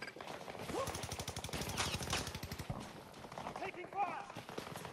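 Rapid bursts of automatic gunfire crackle through a Battlefield 2042 firefight, the shots densest in the middle and thinning toward the end, with a voice heard at times over the clatter.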